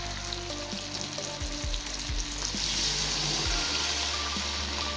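A frying prawn and bottle gourd curry sizzles steadily in the pan as water is poured in, the hiss swelling and broadening after the liquid hits.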